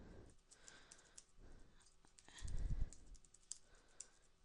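Quiet, close typing on a computer keyboard, scattered key clicks coming in short uneven bursts, with a soft thump midway.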